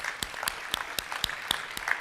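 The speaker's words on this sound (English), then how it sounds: "Can we give them both a round of applause?" Audience applause at a marketing keynote, steady clapping from a crowd with sharp individual claps standing out at a regular pace, fairly soft and even throughout.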